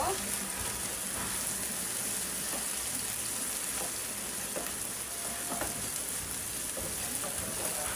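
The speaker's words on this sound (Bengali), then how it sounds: "আদা রসুনটা একটু ভালো করে ভাজা ভাজা করে আমি মশলা দিব।" Ginger and garlic frying in a pan for a pabda fish curry, a dense, even sizzle of hot oil throughout with faint scraping stirs, close and steady.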